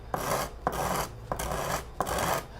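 Pearl inlay edges on an acoustic guitar sanded by hand with sandpaper make four loud, close, gritty strokes, each opening with a sharp scrape and sliding into a rough swish, evenly spaced.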